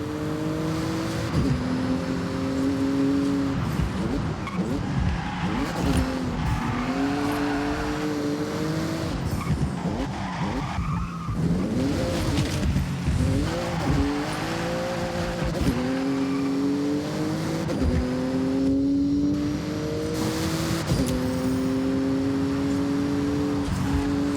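A Porsche in Forza Horizon 6 blasting through a speed zone on Japanese roads, engine howling and climbing through repeated upshifts with tire squeal and skidding, loud and continuous throughout.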